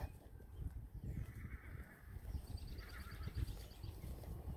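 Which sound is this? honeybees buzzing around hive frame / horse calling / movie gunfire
horse calling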